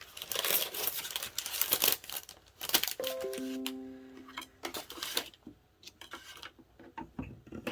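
Scissors snip through a cardstock strip for a 3-D stand-up Christmas card, with crisp crinkling paper rustles and a few sharp cuts, close and moderately quiet, no talking.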